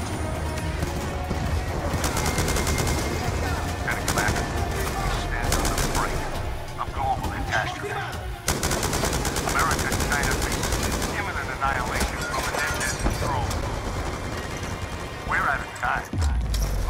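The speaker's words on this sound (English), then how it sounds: "Return fire!" Heavy, sustained gunfire in Call of Duty Black Ops 2, loud and near, with dense automatic bursts and crashing impacts running almost without a break, while voices shout over the battle.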